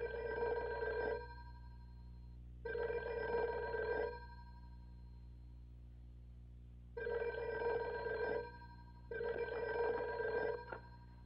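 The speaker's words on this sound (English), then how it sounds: "Is that your phone?" A telephone bell from a 1958 film rings in four long, evenly spaced bursts separated by silent pauses, clear and alone with no voices.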